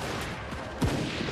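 Gunfire from a battle in the strategy game Total War: Warhammer 3, heard as a single sharp, booming shot about midway through, set against a steady, faint rumble of battlefield noise.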